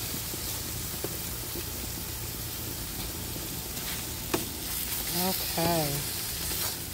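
Mushrooms frying in a pan give a steady close sizzle throughout, with a few light clinks and a brief spoken word near the end.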